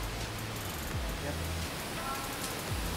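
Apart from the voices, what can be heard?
rain falling outdoors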